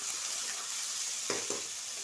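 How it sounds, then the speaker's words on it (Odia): Onions fry in hot oil with a Kashmiri chili powder and bay leaf base, giving a constant hiss and crackle with a couple of soft stirring knocks. "ପିଆଜକୁ ଆମେ ଲାଲ ହେଲା ପର୍ଯ୍ୟନ୍ତ ଭାଜିବା।"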